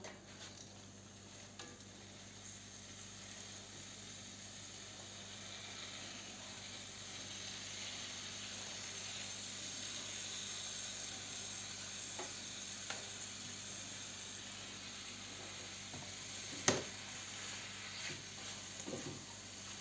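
Chopped spinach and onion cook in melted butter in a pan with a faint, steady low sizzle, broken by a few soft clinks and taps from stirring, and no voice over it.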